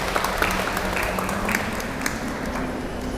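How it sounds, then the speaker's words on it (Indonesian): Audience applause greets a pediatric specialist invited onstage at a National Nutrition Day talk show on preventing stunting, a steady wash of clapping that carries through without a break. "Beri tepuk tangan buat Dr."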